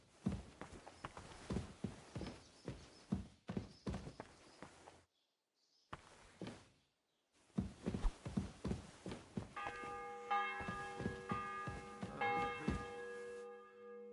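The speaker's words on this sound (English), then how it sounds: "The bell's ringing for Hans the 5th time." A church bell in the medieval game Kingdom Come Deliverance 2 tolls in a steady series of strikes near the end, layered over rhythmic horse hoof clip-clops and footsteps with a brief quiet gap.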